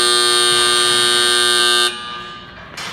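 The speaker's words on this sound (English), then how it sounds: "The belt stop alarm reject obviously stops the belt and sets off the buzzer" A belt stop alarm buzzer on a LOMA IQ machine sounds as a loud, steady, tonal drone for about two seconds before cutting off, followed by a quieter background hum.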